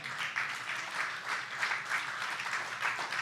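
Church congregation at a Good Friday service breaks into continuous applause, many hands clapping together in a dense, evenly loud roar with slight rhythmic swells and no speech on top.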